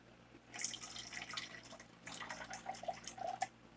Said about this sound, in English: Next, I'm going to add a little bit of water.